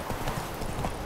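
Horse hooves clip-clop in a quick galloping rhythm in The Witcher 3, a brief close run of hoofbeats with faint talk underneath.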